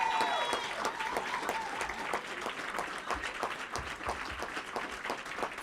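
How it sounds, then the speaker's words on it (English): Guests at a scholar-athlete awards banquet applaud an honoree with a sustained, even patter of many hands clapping in a hall, loud at first and then settling slightly for several seconds. "Just clap your hands for Colin Nichols."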